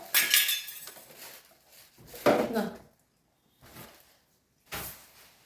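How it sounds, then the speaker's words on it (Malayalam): Kitchen items such as pots, dishes and containers being arranged in a cabinet under a sink, producing several scattered clinks and knocks separated by short quiet gaps, fairly faint and close. "അപ്പൊ ഇതിന്റെ അടിയിലെല്ലാം ഞാനിങ്ങനെ ഒതുക്കിക്കൊണ്ടിരിക്കുവാണ് കേട്ടോ"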